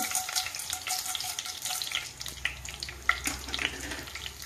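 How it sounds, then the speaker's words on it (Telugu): Mustard and other tempering seeds hit hot peanut oil in a pan, giving a steady bright sizzle with scattered pops and crackles throughout, with no one speaking. "వేస్తున్నానండి, తాలింపు గింజలన్నీ వేస్తున్నానండి"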